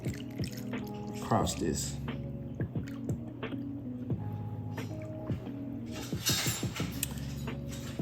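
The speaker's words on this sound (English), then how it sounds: "go ahead and add all of that milk mixture" A milk mixture is poured over a strawberry tres leches cake, making soft dripping and squishing liquid sounds under steady talking.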